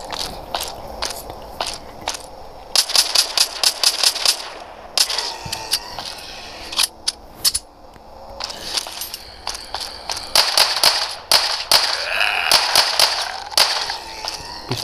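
Rapid bursts of sharp pistol shots in the video game The Walk, fired in quick clusters with short pauses between volleys, loud and close.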